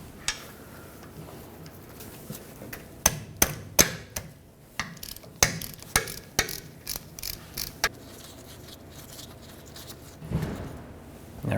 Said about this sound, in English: We'll use a 3/8 drive extension, or directly the ratchet, to remove this plug so we can top off the fluid.